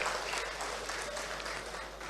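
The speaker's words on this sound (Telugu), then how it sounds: "నచ్చితే చప్పట్లు కొట్టండి." An audience at a Telangana political gathering applauds, dense, faint clapping that holds steady throughout without speech.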